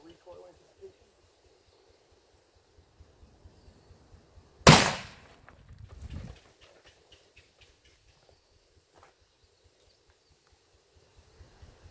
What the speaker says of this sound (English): So I'm gonna shoot it from a little bit closer range